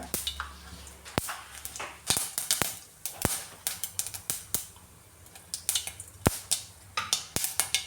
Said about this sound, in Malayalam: കടുകെല്ലാം പൊട്ടി വന്നിട്ടുണ്ട്